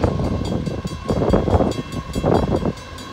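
A Canadian Pacific freight train, CP 118, passes on the Belleville Subdivision near Cherrywood Siding, a loud, close, continuous rumble with rhythmic pulsing of railcars rolling by, no talk.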